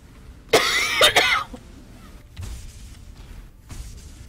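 A woman gives a loud fit of coughing close to the mic, two or three harsh coughs in quick succession, then quiet shuffling and soft knocks follow.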